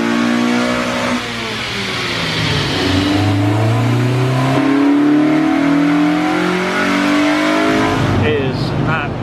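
A Honda EP3 with a K24 engine and Twinloop exhaust revs on a dyno, its engine note climbing and falling through several loud pulls while people talk over it.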